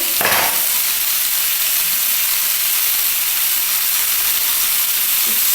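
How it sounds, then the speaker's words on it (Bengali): Spices frying with salt and turmeric in a pan, a steady loud sizzle that holds for the whole stretch, with a brief stirring scrape near the start. "নুন আর হলুদ দিয়ে আগে ভেজে নিই"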